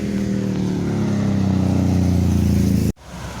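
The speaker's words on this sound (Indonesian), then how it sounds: "Kita akan memantau bus-bus yang dari arah Sumatera Barat yang akan menuju ke arah Jakarta dan sekitarnya." A new NPM intercity bus on a road from West Sumatra toward Jakarta rolls past with a loud, steady engine drone and tyre rumble that cuts off abruptly near the end.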